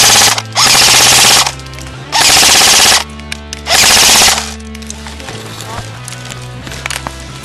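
Airsoft guns rattle off three loud, close full-auto bursts, each about a second long, during an outdoor Lord of the Rings airsoft and larp battle, with faint shouting between the volleys.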